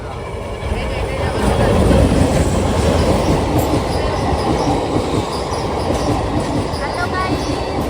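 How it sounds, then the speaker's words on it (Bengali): A train rolls past on railway tracks, loud and close, with steady wheel rumble and clatter that swells early on and holds through to the end, with faint wheel squeal over it. "ট্রেন আসছে আরেকটা।"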